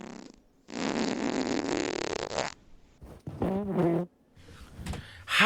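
Farting sounds, several separate bursts: a long loud buzzing fart, then shorter sputtering and rising squeaky ones, close and loud with short silences between.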